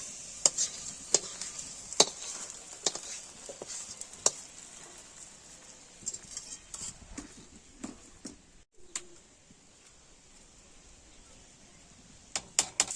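A fried onion tempering with cumin and dried chilli going into khichuri brings faint sizzling and patter, broken by several sharp spoon clinks and scrapes, quieter in the middle and busier near the end.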